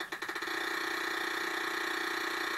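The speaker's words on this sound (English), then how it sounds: "But I guess I'll keep on spinning." Wheel spin in the 1992 Sega Genesis Wheel of Fortune game: a quick burst of rapid ticking at the start gives way to a steady, buzzy electronic tone that holds loud and even to the end.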